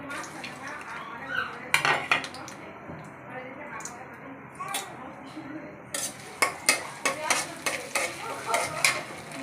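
Onion and garlic fry until browned in a pan while a metal spatula stirs and clatters against it. A steady sizzle runs underneath, with a run of rapid scraping strokes near the end and a voice now and then.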